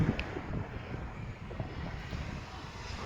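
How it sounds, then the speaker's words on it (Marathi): Continuous low rumbling wind buffeting the microphone, steady and close, with no one talking. "किती मस्त वारा सुटलाय ना"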